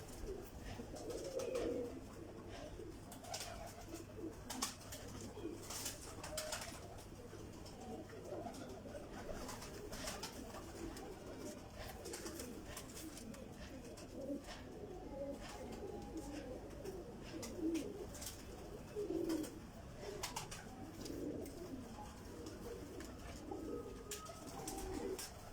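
Pigeons coo softly in scattered low, throaty calls, faint and intermittent over a quiet background with occasional rustling, and a voice is heard briefly.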